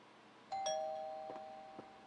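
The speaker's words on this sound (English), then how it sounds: "Doorbell." A doorbell chimes in the video game PC Building Simulator, a quiet two-note ding-dong with a ringing tail, followed by a couple of softer echoing tones over faint background hiss.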